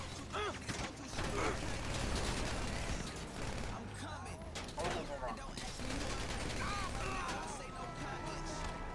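Gunfire in Grand Theft Auto 5 on PC: dense, rattling bursts of shots and mechanical clatter that go on throughout, mixed with other game noise and talk.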